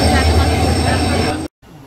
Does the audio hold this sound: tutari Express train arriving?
yes